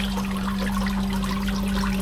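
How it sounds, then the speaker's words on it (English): A pump motor draws water out of an Oase in-ground pond skimmer box, giving a steady, close rush of running water over a low, constant motor hum with no talking. "I've still got the motor pumping on the backy shower just to keep the water out of the box."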